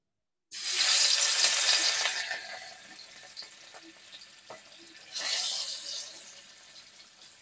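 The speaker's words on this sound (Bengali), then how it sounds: "তেল গরম হয়ে গেছে, এবারে আমি মাছগুলো ভেজে নেব।" Pieces of katla fish drop into hot oil with a loud, sudden burst of sizzling that slowly settles to a gentle fry with small pops, then a second loud surge of sizzle flares up near the end.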